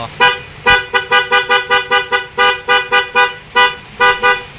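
An MDL loud horn with passing light, installed on a motorcycle, blasts in a rapid series of short, loud honks, about a dozen bursts in quick rhythm with brief gaps, close and alone.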